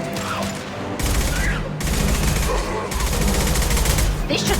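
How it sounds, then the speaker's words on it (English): Sustained gunfire from Mass Effect 2 combat, dense bursts of rapid shots and automatic weapon fire rattling continuously, loud and close, with brief lulls between volleys. "Look out! Taking fire!"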